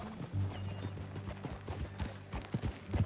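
Horse hooves clip-clop at a steady riding pace in Red Dead Redemption 2, close and clear over a low droning hum, with a brief whinny-like sound and faint saddle noises mixed in.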